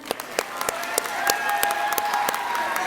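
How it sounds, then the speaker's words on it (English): An audience at an 8th grade awards program gives a round of applause to the students. Scattered sharp claps build into steady clapping with faint crowd murmur and cheering, and voices talk underneath. "one more round of applause"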